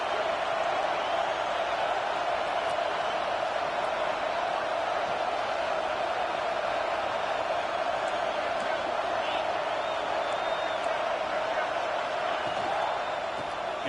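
A home football crowd roars in a steady, dense wash of cheering that holds at the same loud level from start to finish, with no clear breaks.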